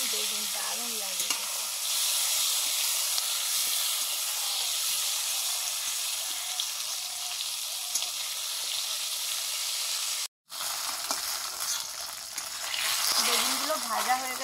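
Tender eggplant slices fry in hot oil with a steady close sizzling hiss that runs almost unbroken, with a brief cut near the end before the frying resumes.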